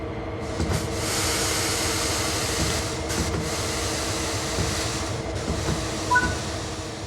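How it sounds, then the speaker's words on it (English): Simulated train in Train Sim World 3 pulling away after the independent brake is released, a steady low rumble and hum of rolling stock with broadband rail noise, close and continuous, no voices. "Finally, release the independent brake and you'll start moving."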